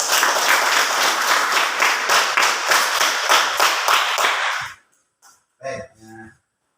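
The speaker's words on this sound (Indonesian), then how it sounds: "Tepuk tangan untuk kelompok ini." Classroom students clap for a group of classmates in rhythmic unison, loud and close for nearly five seconds before stopping abruptly, followed by a brief voice.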